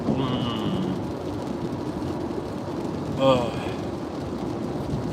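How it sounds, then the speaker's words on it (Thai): Steady rain falling outdoors makes a continuous broadband hiss throughout, with someone speaking over it and a brief louder sound near the middle. "ตอนนี้ก็ฝนตกนะครับวันนี้"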